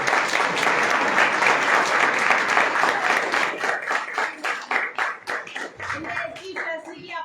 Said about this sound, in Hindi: ताली गिराओ, ताली बजा लो।